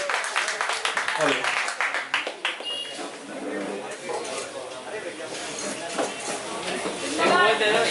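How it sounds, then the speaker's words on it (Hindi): An audience at a live comedy, singing and poetry evening breaks into applause. The clapping is bright and scattered, heaviest at the start, and carries on under talking and crowd chatter. "जोरदार तालियां हो जाए"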